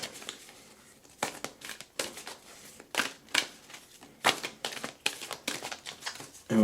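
Fairy Oracle tarot cards being shuffled by hand, a run of crisp papery riffles and crinkling bursts that come in irregular clusters, close and fairly quiet, with no voices.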